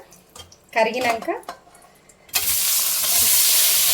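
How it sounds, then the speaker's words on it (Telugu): A spoonful of butter and a spoonful of oil melt in a pan for paneer masala, and after a short stretch of speech a steady, loud hiss of sizzling takes over and continues unbroken. "1 టేబుల్ స్పూన్ అంత బటర్ వేసి అందులో 1 టేబుల్ స్పూన్ నూనె వేసుకొని ఈ రెండు కరిగినాక"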